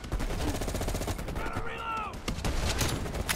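Gunfire from a sniper rifle and other weapons in the video game Call of Duty: Black Ops Cold War, dense rapid shots under game effects with little pause.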